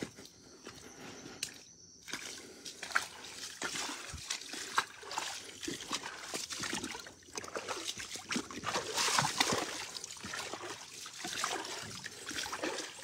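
Flood water from the full El Novillo reservoir trickles and laps around a partly submerged church at San Pedro de la Cueva, Mexico, a steady, close, splashy wash with small irregular splashes throughout and no speech.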